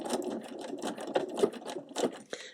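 A home sewing machine runs a short locking stitch while stitching satin stitch tulips, its needle rattling in quick bursts with brief pauses between them, close and clear, and no one speaking.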